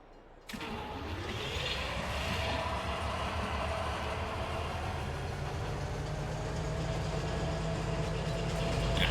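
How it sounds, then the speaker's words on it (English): A train arrives in the Farming Simulator 22 video game, its low rumbling engine and rolling wagons building steadily into a loud, continuous drone with a faint rising whine and no talk. "so the train's here"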